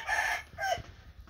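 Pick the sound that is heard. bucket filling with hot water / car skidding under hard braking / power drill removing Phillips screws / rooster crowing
rooster crowing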